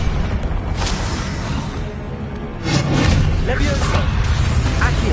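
Expelliarmus spell effect from a Hogwarts wizarding video game: a dense magical burst with a booming whoosh, a swell of energy about midway that grows louder and sustains to the end, with game sounds and faint voice underneath.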